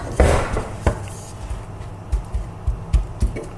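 Garlic and chili stirred in hot oil in a pan, a quiet sizzle under a series of soft, irregular knocks and scrapes of the utensil against the pan.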